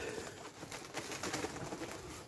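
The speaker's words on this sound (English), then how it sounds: "pigeons going mad." Pigeons coo in a wood during a stealth camping hike, a soft, continuous murmuring chorus at moderate distance under a steady broadband hiss.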